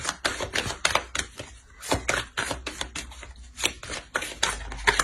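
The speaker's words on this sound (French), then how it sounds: "Je vais rajouter deux petites cartes." Tarot cards are drawn and laid out during a reading: a dense run of crisp, close snaps, flicks and slaps in quick irregular succession, fairly loud throughout.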